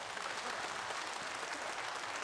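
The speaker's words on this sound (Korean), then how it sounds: "여러분 축하의 박수를 부탁하겠습니다." During the live Korean studio broadcast "Finding Dispersed Families," the studio audience gives congratulatory applause, a dense, uniform patter of clapping that sounds fairly faint and distant and runs unbroken throughout.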